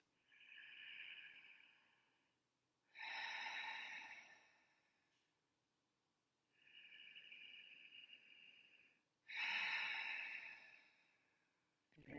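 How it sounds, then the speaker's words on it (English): Slow, deep breaths taken during a guided relaxation exercise, with two long inhales each followed by a louder, breathy exhale, paced evenly and heard close up with no talking. "we'll do a couple more breaths"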